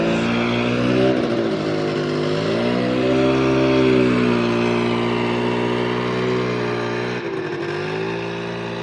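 A 1980s Bravo snowmobile engine drones steadily as it works through a tough trail corner in remote Alaska, a loud close two-stroke buzz with shifting pitch and brief revs, no talking.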